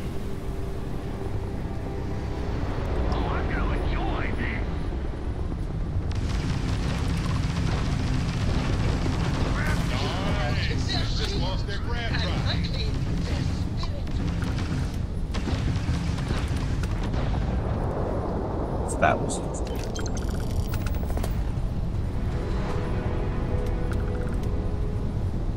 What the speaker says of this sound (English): Turrets start shooting whether you want to or not.